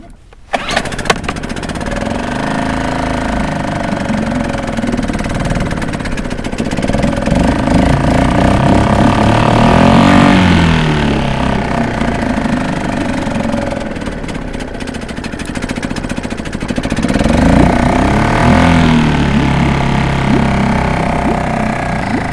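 The small gas engine on a motorized kayak runs on choke, a loud, steady, rough close-up drone that rises and falls in revs and keeps going for the whole stretch, with a brief start at the beginning.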